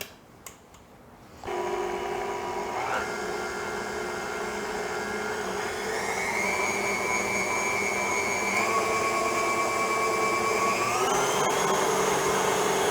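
An electric mixer creams butter with white and brown sugar for white chocolate cranberry pistachio cookies, starting after a few handling knocks and then droning steadily and loudly, its whine rising in pitch as it runs.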